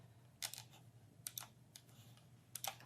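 Short bursts of computer keyboard typing, a few quick keystroke clusters separated by pauses, faint and close against a low background hum, with no speech.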